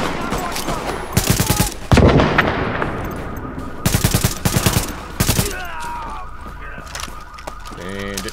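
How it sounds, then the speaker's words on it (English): Bursts of automatic gunfire from The Division, several loud rattling volleys separated by short pauses, with lighter scattered shots and ambient game noise between them. "You just keep shooting like that."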